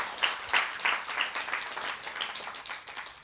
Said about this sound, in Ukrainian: Давайте ми оплесками подякуємо Богові за те, що Він турбується про нас.